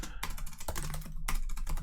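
Fingers type on a computer keyboard, a quick run of close, crisp key clicks in an uneven rhythm with a brief pause, no voice present.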